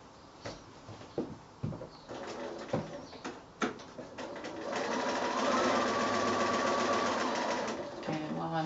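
Scattered clicks and handling taps of fabric being positioned, then a sewing machine runs a quarter-inch seam on a small quilted drawstring bag, a sustained close, even whir lasting several seconds.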